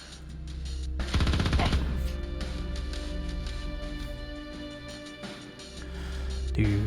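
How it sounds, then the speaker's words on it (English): Gunfire in the space strategy game Star Traders: Frontiers, a single loud shotgun blast with a sharp crack and rumbling tail over steady game music. "Let's just do a regular shotgun to the face."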